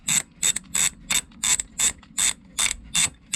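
Ratchet clicking in quick bursts while winding up the clutch cable adjuster on a Yamaha R1 motorcycle in a workshop, about a dozen crisp, evenly spaced ratcheting strokes heard close up with no talk.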